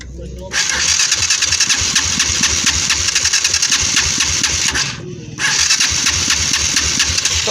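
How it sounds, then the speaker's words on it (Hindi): A motorbike with a repaired electric self-starter cranks twice, each time a loud buzzing whir of the starter motor running for several seconds, with a short pause between attempts and engine rumble underneath. "इसका जो इंजन का सेल्फ है ये बिल्कुल वर्क कर रहा है"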